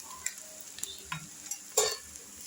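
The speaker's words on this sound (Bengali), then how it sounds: "এবার আমি চালটাও যেটা ছিল সেটা আমি দিয়ে দিচ্ছি, মাথাটাও সব দিয়ে দিচ্ছি" Rice and fish heads going into a pot for fish-head biryani, with a few scraping stirs and a short sizzling burst near the end; quiet and close, no talking.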